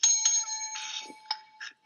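A bright bell rings in several quick, close strikes with short ringing tails, loud and alone without any talking.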